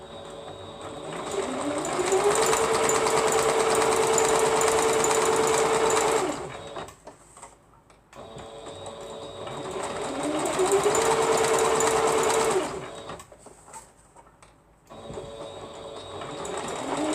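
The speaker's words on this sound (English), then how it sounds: "now we're going to sew it down" Sewing machine stitching an appliqué wing onto fabric, two long steady runs of loud, close, rapid mechanical whirring, each pausing briefly before starting again, with no talking.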